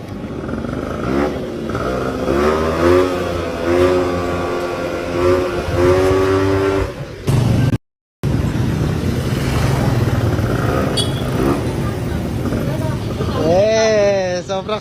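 A Honda Express 50 motorcycle with a two-stroke engine running nearby, revving and idling with a buzzing, warbling tone that rises and falls, while people talk over it.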